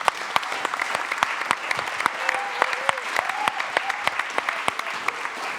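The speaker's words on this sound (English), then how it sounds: "I would like to thank you for joining us at the table and clap for you as you walk back." Scattered applause from a modest audience at a closing plenary session, sharp individual claps standing out over a thin bed of clapping, with a voice briefly audible midway.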